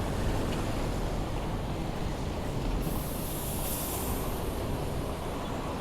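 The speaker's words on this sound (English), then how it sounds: "Here comes the tram." A tram on a seafront rumbles steadily closer with a broad low roar and a hissing high whine rising partway through, continuous and fairly loud.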